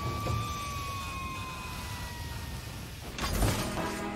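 A military Ghillie pumper rescue fire engine sounds its siren, a long tone that slowly drops in pitch over a rumbling background, followed by a brief clattering burst near the end.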